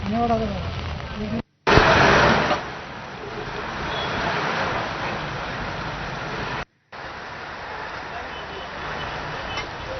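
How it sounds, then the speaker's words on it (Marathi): Steady, dense hiss of rain falling on surfaces, with a brief louder burst early on, continuous and moderately loud, with faint voices mixed in at the start. "धरण क्षेत्रामध्ये पाऊस अद्यापही कायम आहे"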